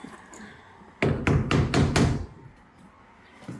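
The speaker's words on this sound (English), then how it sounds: "use a hammer like I've never used a hammer before" A hammer strikes five times in quick succession, loud, close thuds with a ringing edge, followed by quiet.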